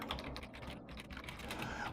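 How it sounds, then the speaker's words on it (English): Steady typing on a computer keyboard, a continuous run of quick, close key clicks with no voices over it. "we can just type text"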